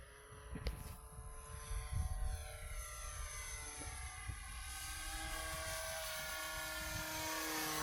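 An FMS 800mm P-51D V2 "Big Beautiful Doll" electric model airplane flies after takeoff, its high-pitched motor whine steady and fairly faint, with shifting tone as it passes, over wind rumble outdoors.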